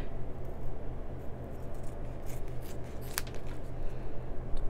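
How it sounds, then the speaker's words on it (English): Scissors snip around machine-embroidered cowboy boots for a 12-inch fashion doll, giving soft, irregular close cuts and fabric rustles over a steady low hum, with one sharper snip partway through. "just want to cut around your little pair of boots"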